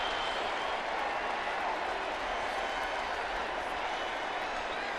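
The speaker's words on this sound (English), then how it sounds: "This Redskin crowd finally got into this football game by a takeaway and a touchdown by the defense" A football stadium crowd cheering at a Redskins home game against the Eagles, a dense, steady roar with scattered applause filling the whole stretch, with commentary faintly mixed in.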